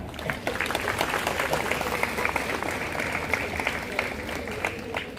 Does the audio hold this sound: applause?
yes